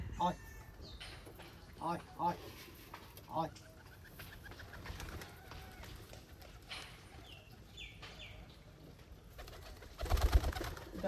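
Pigeons at a pigeon farm coo in a few soft, separate calls early on, with a quiet murmur of talk and movement continuing afterward and a brief rustle near the end.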